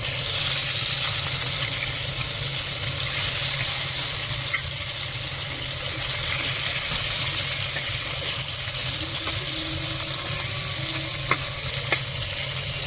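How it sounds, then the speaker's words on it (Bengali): Spice-coated fish pieces frying in hot oil, giving a loud, continuous close-up sizzle that holds steady throughout with only a few faint clicks and no voices. "মাছের ভাজি মেখে দিয়েছি, এবার ভেজে নেব।"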